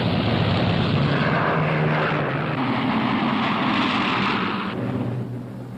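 Boeing B-17 Flying Fortress bombers taking off and flying from English aerodromes, a loud continuous roar of piston propeller engines that holds steady and then eases slightly toward the end.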